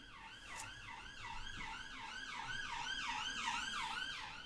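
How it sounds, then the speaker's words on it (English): An ambulance siren wails in repeated rising and falling sweeps, fairly faint and distant at first and growing slightly louder, heard alone with no speech. "ambulance"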